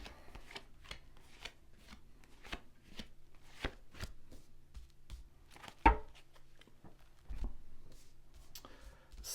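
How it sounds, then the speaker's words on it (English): Tarot cards being laid out one by one on a table, a series of soft close-up slaps and light paper flicks at an uneven pace, quiet, with a slightly firmer placement midway. "let's just lay down your 10 cards on the table"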